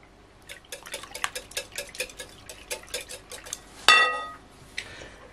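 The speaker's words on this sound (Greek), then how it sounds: "Ανακατεύουμε." Cake batter of milk and yogurt is stirred in a bowl with a utensil, giving a quick run of close, rhythmic clinks and scrapes, ending in a sharp ringing knock against the rim.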